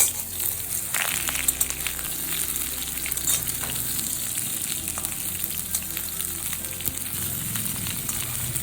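Cut ridge gourd frying in mustard oil with a kalo jeere tempering, a loud, close, steady sizzle with crackles and occasional stirring scrapes.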